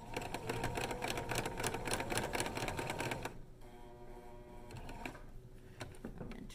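A sewing machine runs back and forth over elastic on a fabric face mask, making a fast, steady mechanical clatter for about three seconds before easing into a quieter, lighter whirr.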